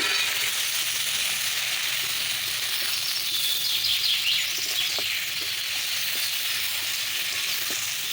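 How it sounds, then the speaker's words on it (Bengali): Shrimp sauté in oil with mashed prawn head, giving a continuous close sizzle with scattered light ticks of stirring against the pan. It is steady and unbroken, with no voices. "বেশ কিছুক্ষণ ধরে আমি এভাবে কষিয়ে নেব"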